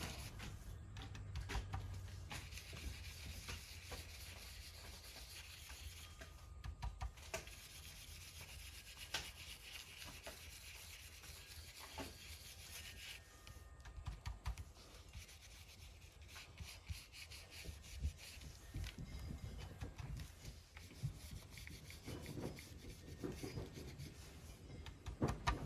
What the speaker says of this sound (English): I'm going to use my brush for just this part and pick up a little bit of paint and scrub it on